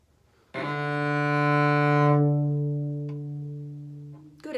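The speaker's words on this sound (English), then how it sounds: "make a circle bow, and land back at that spot" A cello bow makes a circle stroke and lands back on the string, giving one sustained, resonant low note that swells and then slowly fades. A faint touch sounds near the end.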